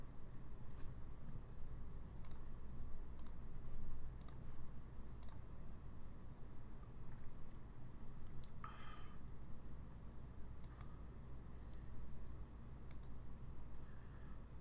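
A computer mouse clicks sparsely during a card game session, faint crisp ticks scattered at irregular intervals over a low steady hum.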